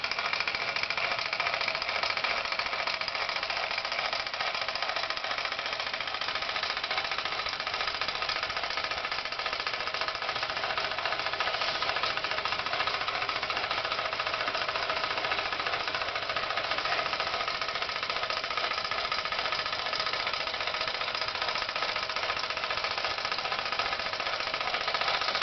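A Falk 450 overtype steam engine running with boiler feed water going in, a dense continuous mechanical rattle and hiss that holds steady and loud from start to finish.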